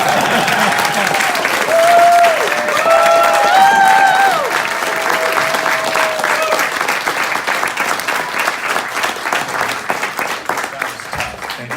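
Sustained audience clapping after a spoken poem performance, loud and dense at first and thinning slightly toward the end, with some faint cheering and voices mixed in.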